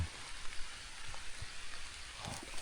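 Heavy rain pours steadily as an even, hissing wash with a few louder drops and patters close by, continuous throughout with no voices.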